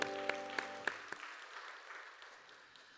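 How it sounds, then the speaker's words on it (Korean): Applause at a Korean church youth worship service, starting with a few sharp claps over a fading musical chord, then a soft, fairly distant wash of clapping that slowly tapers off. "서로를 격려하면서 박수하겠습니다."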